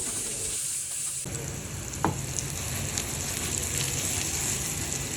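Steady, close sizzling of pointed gourd frying in hot oil, with a brief clatter partway through.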